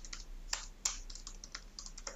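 Keys clacking on a computer keyboard while an email is written, a quick irregular run of close, light taps with a few sharper strokes and no voices.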